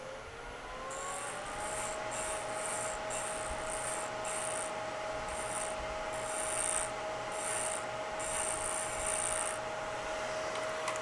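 A wood lathe tool takes very light cuts on a nautical-theme pen blank, giving a steady soft rasping scrape with a constant motor whine underneath and faint repeated squeaks, continuous and close throughout.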